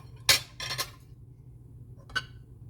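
Kitchen dishes, pots and utensils clatter as they are put away after cooking grilled cheese, with three short, close bursts of clinking and knocking separated by quiet gaps.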